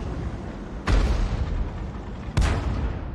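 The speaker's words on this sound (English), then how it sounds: "they are exchanging fire now" Tank cannon fire traded between armored vehicles in a World of Tanks–style tank game, with a KV-1 involved: two loud booming shots about a second and a half apart over a constant rumbling battle background.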